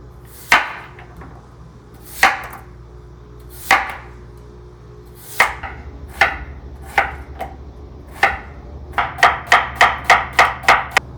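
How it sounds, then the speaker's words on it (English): A knife cuts a peeled daikon radish into slices on a board for homemade kimchi: sharp, close thuds that come slowly and spaced at first, then speed up into a quick run of even chops at the end, with no talking. "We're going to peel our daikon. Cut it into slices."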